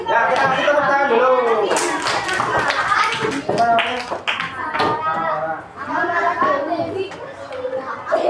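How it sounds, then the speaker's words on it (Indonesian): Children in a primary school classroom clap together in a loud burst of applause that keeps going, with kids' voices and chatter mixed into it. "kita kasih tepuk tangan dulu"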